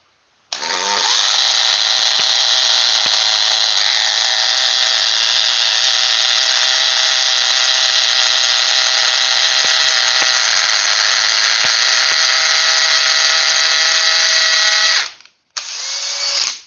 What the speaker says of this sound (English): So, it's in speed 3, and it's in hammer mode